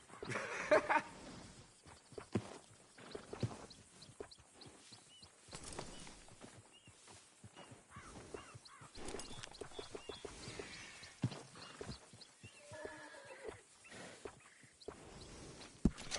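Horse hooves clip-clop steadily in Red Dead Redemption 2, a ridden horse walking along a road near a stable, with soft game ambience and faint bird calls in the background.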